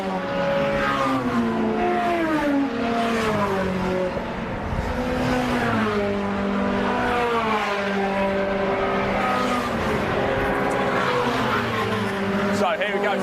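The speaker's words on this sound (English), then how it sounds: "just the MG Cup cars going down the Wellington Straight now" MG Cup race cars run down the Wellington Straight at Silverstone, their engines rising and falling in pitch as several pass in overlapping waves, with a steady track din underneath.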